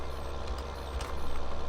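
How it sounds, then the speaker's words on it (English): A Mack B model truck engine in Farming Simulator 2013 rumbles with a deep, steady low-frequency drone that continues for under two seconds. The engine grows slightly louder toward the end. "I do like this truck. It's got a good beefy sound to it."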